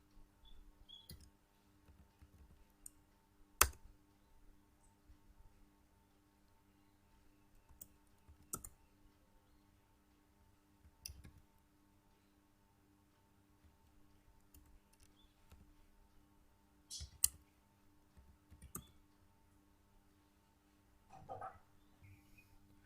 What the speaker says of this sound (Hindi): जो कैप्चा यहाँ पे नजर आ रहा है वही आपने यहाँ पे टाइप करना है इस वक्त